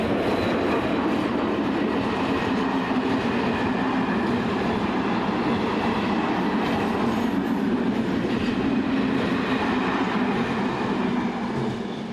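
Czech class 363 electric locomotive 363085 on a limited stop train from Prague rushes past, making a loud, continuous rolling roar with rattling wheels and wagons throughout, no voices.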